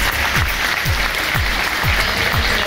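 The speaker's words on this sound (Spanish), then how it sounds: "Un aplauso, por favor." Applause from an audience at a choir concert, a dense, loud, steady wash of clapping with a few low thumps repeating at regular intervals underneath.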